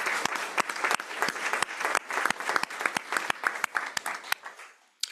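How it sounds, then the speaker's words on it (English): An audience at a policy and research conference on suicide prevention claps for a panel, with distinct sharp claps standing out over a dense patter that thins and fades out near the end. "Can we give them another round of applause"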